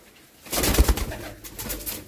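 Soft, low coos from a pure white pigeon with a black tail repeat a few times close by, a gentle throaty burble over quiet background.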